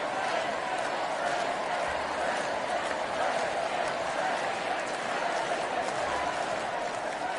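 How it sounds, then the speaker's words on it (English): A large political rally crowd roars and chants continuously, a dense, unbroken mass of voices that stays loud and steady, with no single speaker standing out. "The crowd chanting"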